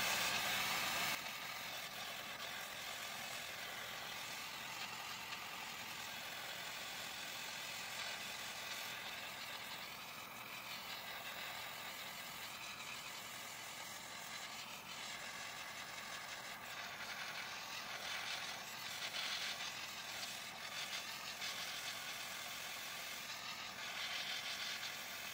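A torch flame heating titanium gives a steady, loud hissing roar that holds nearly unchanged for the whole span, with no talk.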